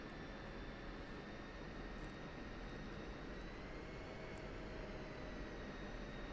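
A steady, loud jet roar from an F-16C Viper in the DCS flight simulator, flying over the Persian Gulf map during air-to-air refueling, holds constant throughout with no voices.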